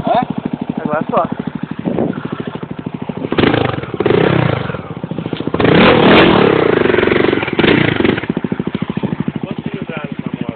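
Tornado 340cc motorcycle engine close by, a steady pulsing idle broken by two strong revs, loud throughout.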